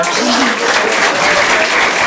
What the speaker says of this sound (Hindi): दोनों के लिए ताली बजा देगा।